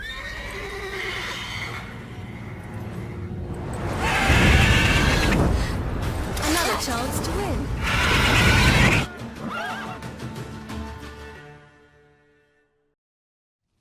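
A mare whinnies loudly and repeatedly, with clattering hoofbeats, during a horse race in the video game The Witcher 3: Wild Hunt; the calls swell in two strong bursts, then trail off, with a brief line of speech.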